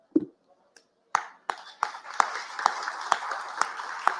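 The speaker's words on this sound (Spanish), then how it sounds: "merece el más grande de todos los aplausos" An audience applauds at the presentation of a poetry anthology, starting with a few scattered claps that settle into steady, evenly spaced rhythmic clapping from a modest crowd, with faint room sound beneath.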